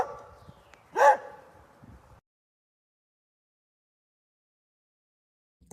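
A single sharp dog bark rises briefly out of a soft background, then the sound cuts to silence.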